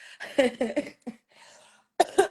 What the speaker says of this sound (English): that cough sounds bad